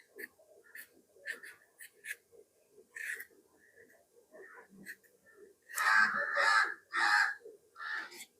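Crows caw repeatedly in short bursts, scattered at first, then a louder run of harsh caws near the end, with quiet background between calls.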